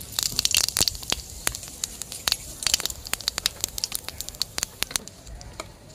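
Cumin seeds hit hot oil left in the pan after frying pieces of rui fish for a Bengali curry, giving sharp, scattered crackles and pops, busier at first and then thinning out, close and crisp.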